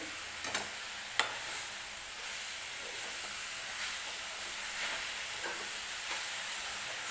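Jaggery and coconut modak filling being stirred in a pan, with soft continuous sizzling and a few brief scraping clicks of the spoon, fairly faint and steady with no talking.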